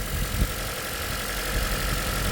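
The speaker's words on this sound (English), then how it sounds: "When I plug this back in, the RPM speeds up." A car engine idles steadily and close by during a misfire diagnosis, a continuous low rumble with slight roughness and no clear change in speed over the short stretch.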